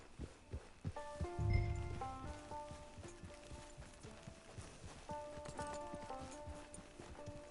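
Rhythmic clip-clop of horse hooves on hard ground in Red Dead Redemption 2, fairly close, with musical tones ringing in the background and a brief thump early on.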